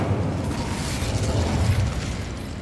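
Incendio fire spell cast in Hogwarts Legacy, a loud rushing whoosh and roaring burst of flame that swells and holds for a couple of seconds before easing off.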